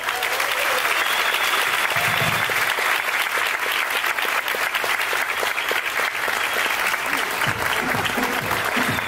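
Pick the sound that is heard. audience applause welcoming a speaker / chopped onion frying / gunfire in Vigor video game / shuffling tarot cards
audience applause welcoming a speaker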